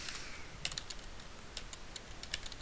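Quiet, rapid keystrokes on a computer keyboard, a steady patter of light clicks with small clusters, close and alone with no voice.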